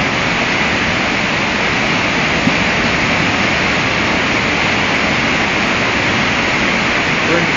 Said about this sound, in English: Oh, here's the flood.